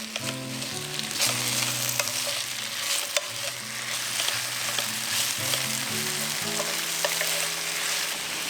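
Potatoes and carrots stir-frying in a pan as a Korean side dish, a loud continuous crackling sizzle with spatula clacks, and music-like tones running underneath.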